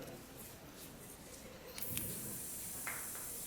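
Ambi Pur air freshener sprayed onto fish, a short hissing burst near the middle followed by a longer steady spray hiss and a brief second puff, over a background of room noise.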